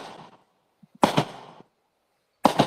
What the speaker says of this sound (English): I just heard the fireworks.